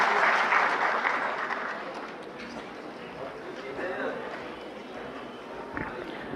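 An audience applauds to welcome a speaker at a CSC-organised workshop, with the clapping loudest at the start and thinning out, and talk running through it.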